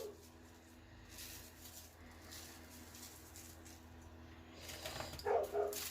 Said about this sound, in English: I don't know if you hear Chevy barking like a lunatic outside